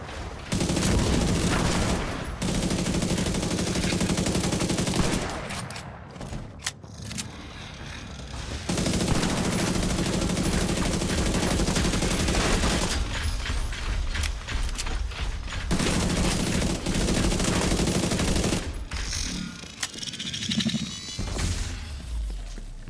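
Gunfire and explosive blasts from a combat firefight in the video game The Division 2, with loud sustained bursts of shooting and crashes broken by brief quieter pauses and mechanical clatter, no talking.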